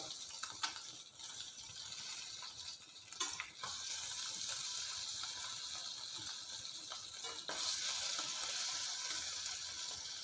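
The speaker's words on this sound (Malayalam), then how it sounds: "അപ്പോൾ ആ സമയത്ത് മീനെല്ലാം തിരിച്ചിട്ട് കൊടുക്കുകയാണ് ഈ വശം കൂടി ഒന്നും പൊരിഞ്ഞ് കിട്ടണമല്ലോ" Small sardines sizzling steadily in hot oil in a pan, a constant crackling hiss with a few sharp clicks and scrapes as the fish are turned over.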